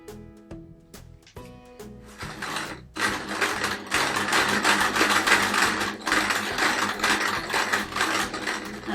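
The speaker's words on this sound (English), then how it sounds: "I'm now going to sew 2 of the quarters together and then the other 2 of the quarters together" A sewing machine stitches two quilt quarters together for a patchwork quilt. It starts with a few separate clicks and short whirs, then runs in a steady close mechanical hum with a rapid needle rhythm for several seconds.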